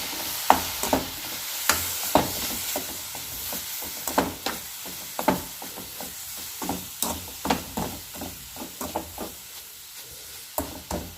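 Poha laddu mixture with milk and sugar being stirred in a pan on the stove, a steady run of scraping strokes over soft sizzling, close and clear with no talking.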